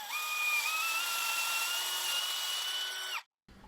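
A power drill whines steadily as it bores a hole into a length of timber for garage shelving, a loud continuous tone that cuts off sharply near the end, followed by a brief quieter noise.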